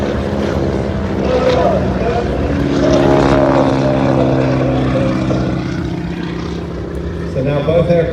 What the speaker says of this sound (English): So now both aircraft will move out to the left and right.